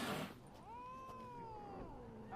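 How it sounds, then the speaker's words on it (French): A cat in The Witcher 3 gives one long, drawn-out unhappy meow, close and clear, with no talk over it. "il est pas content ce chat"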